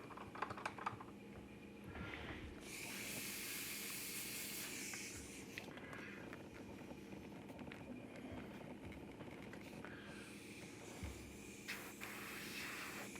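Airbrush hissing compressed air at turned-down pressure, a faint steady airy spray that surges in a couple of louder bursts, soft and close.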